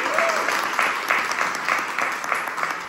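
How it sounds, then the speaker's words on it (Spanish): Audience applause for an Ecuadorian Harvard graduate: a steady, dense wash of many hands clapping for about three seconds, with a faint voice and whistle-like tone briefly audible early on. "un aplauso por favor para Luis González Quispe"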